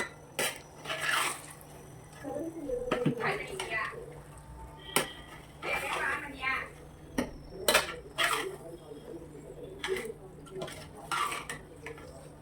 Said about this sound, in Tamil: கறியை போட்டு நல்லா கிண்டிக்கலாம்.